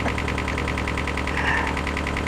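A tractor engine in the video game Farming Simulator 19 runs at a steady idle, with a loud, continuous mechanical drone and a faint rhythmic pulsing throughout, with no talk.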